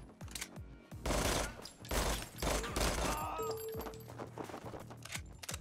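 Rapid bursts of small-arms gunfire in a Call of Duty-style slow-motion breach shooter game: dense, overlapping shots and cracks over several seconds, loud and close, with a brief ringing tone partway through.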